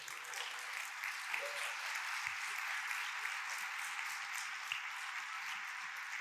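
A church congregation applauds during a Spanish-language sermon, a continuous, fairly faint roar of many hands clapping heard from a distance, with a few low thumps underneath.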